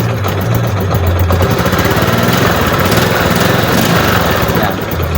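A car engine idles steadily while its battery charges, a loud continuous rough clattering rumble close by that holds the same pitch throughout.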